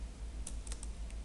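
Arduino code is typed on a computer keyboard, a quiet run of scattered key clicks in an irregular rhythm against a low background hum.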